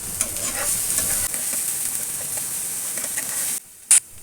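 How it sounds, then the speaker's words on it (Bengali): Onion fries in a little oil with garlic paste, a close, bright hissing sizzle with soft stirring scrapes that cuts off abruptly near the end, followed by one brief sharp burst. "এখন অল্প তেলে পরিমাণ মতো পেঁয়াজ আমি একটু ভেজে নিচ্ছি"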